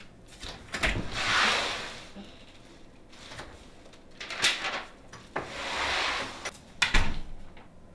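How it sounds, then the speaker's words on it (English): A door opens in an office-style workplace, giving a few scraping, sliding bursts of rubbing and knocking that rise and fade across several seconds, fairly quiet and close, with no talking. "The door."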